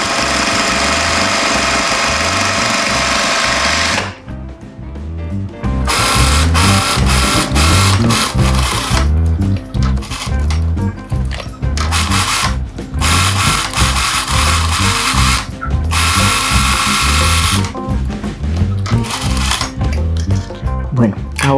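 Sewing machine stitching a seam on a patchwork fabric bag, loud rapid rhythmic needle chatter in long runs with brief pauses between bursts, while a person talks over it.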